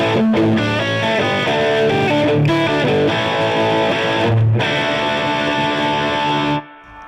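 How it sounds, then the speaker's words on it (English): Electric guitar played through a Mesa Mark V 25 amp in Xtreme mode with gain about halfway and flat EQ, heavily distorted chords ringing loud and close, a few changes, then cut off abruptly near the end. "Now you'll notice a lot of distortion, but you can still hear all the notes in the chord."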